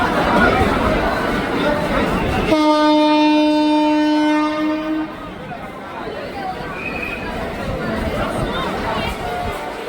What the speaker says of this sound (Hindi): नीचे जो है ट्रेन का भी काफ़ी ज़्यादा शोर हमें सुनाई दे रहा है